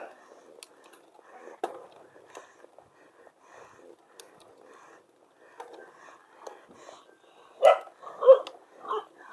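A few dog barks ring out near the end, sharp and fairly close, following a stretch of quiet murmuring voices on a steep hiking trail to Candle Monument in Bulacan, Philippines.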